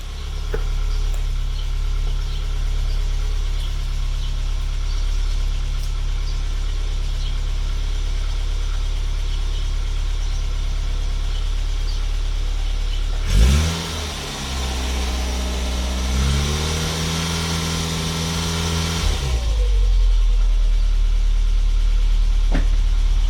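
Austin Allegro engine, running a bit smoky with condensation in the exhaust, idles low for a long stretch, then revs up in several rising and falling bursts before settling back to idle.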